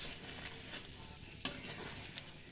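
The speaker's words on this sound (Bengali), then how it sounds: "ফুটে গেছে গ্রেভি। এবার আমি আলুগুলো আস্তে আস্তে ঢেলে দিলাম।" Boiled potatoes slipping into simmering gravy, a faint steady bubbling hiss with one soft splash-like knock partway through, quiet and close.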